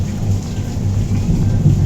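Steady rain pours down on a train in Kanyakumari, soaking a second AC coach, with a continuous hiss and a deep, low rumble underneath.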